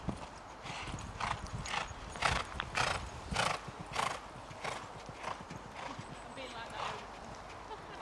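Horse hooves clip-clop in a steady, fairly close rhythm during a show jumping round at a national amateur class, with an occasional whinny and a commentator talking over the footfalls.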